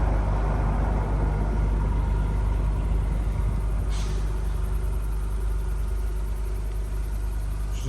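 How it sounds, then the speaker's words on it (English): A 2021 Acura Type S idles with its quad-tip exhaust, a steady low rumble at night that holds evenly throughout, with a brief faint click partway through. "it's idle, you could hear the idle."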